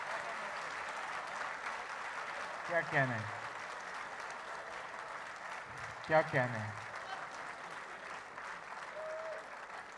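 Audience clapping at a poetry session during a literary festival in Faisalabad, with steady applause throughout and two louder surges of cheering as a voice calls out praise over the crowd.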